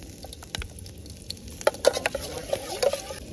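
Ginger frying and being stirred in a hot pan on an outdoor camp stove in the mountains, giving soft crackling sizzles and a few sharp spatula scrapes over a faint windy background, with no talking.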